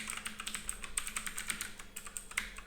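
Quick clicking keystrokes on a computer keyboard as a username is entered at a terminal, a steady run of light taps with brief pauses, close and clear over a low background hum.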